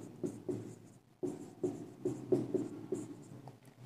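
A pen colouring in card shapes on paper, a run of short scratchy strokes in bursts, close and quiet with no talk.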